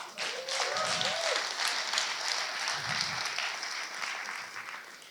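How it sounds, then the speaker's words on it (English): Applause from an audience at a CSS Day 2019 conference talk, a steady wash of clapping held for about five seconds, moderately distant, with a couple of brief low thumps. "So give yourself a round of applause."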